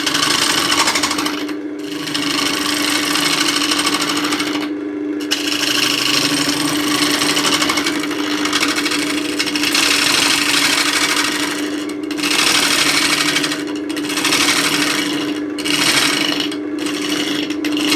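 A wood lathe in a Dorset traditional craft workshop spins a bowl blank as it is trued, giving a steady, loud mechanical hum and rasp that runs continuously with a few brief dips, with no talking.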